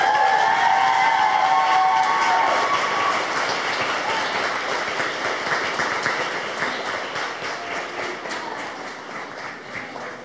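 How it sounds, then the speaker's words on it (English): Guests at Camila's quinceañera applaud her in a thick wash of clapping that starts with a high sustained tone and gradually thins and softens toward the end. "Let's give Camila a round of applause."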